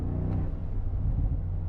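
Mercedes G63 V8 from the 2025 Performance model, heard as a continuous low exhaust rumble with engine drone and slight revving swells, fairly loud and steady with no talk.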